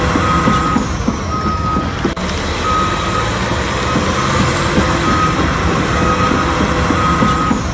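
Yellow mining dump truck running steadily up close, its loud engine drone joined by repeated high reversing beeps sounding at regular intervals, with no talking.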